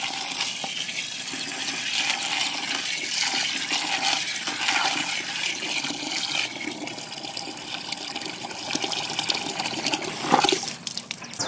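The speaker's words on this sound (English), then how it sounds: "Then you fill the bucket up with water." Water gushes steadily into a bucket being filled for a sour corn hog bait recipe, a continuous broadband rush with no talk, swelling briefly louder near the end.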